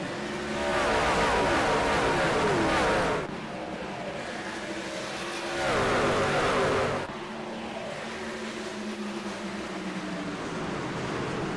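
Race trucks at Gateway in a sim racing video game accelerating from the green flag, loud roaring engine surges that swell and fade in two waves over a continuous motor drone.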